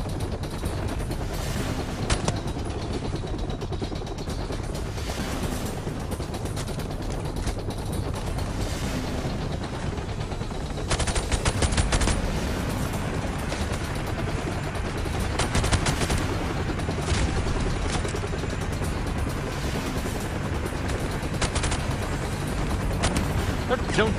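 Modern Warfare Remastered multiplayer match with repeated bursts of automatic rifle fire, sharp and loud against a constant rumble of battle noise, running for the whole stretch while players talk over it.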